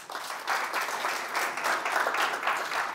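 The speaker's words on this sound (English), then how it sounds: "you guys should give them a big round of applause" A radio-presenter industry event audience gives the speakers a round of applause, a moderate burst of many hands clapping in a room, steady for a few seconds.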